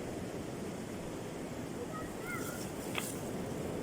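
Sea waves wash against the shore as a constant broadband rush, with wind noise buffeting the microphone and no clear breaking crests.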